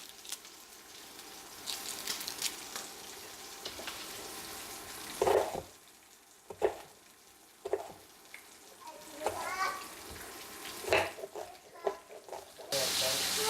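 Bacon frying in a pan, a steady sizzle with crackles, broken by louder clatters and stirring knocks from utensils against the pan.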